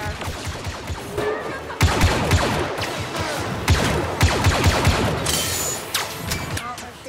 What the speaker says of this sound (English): Oh, they're shooting at me from there still.